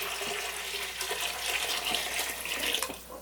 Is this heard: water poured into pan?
yes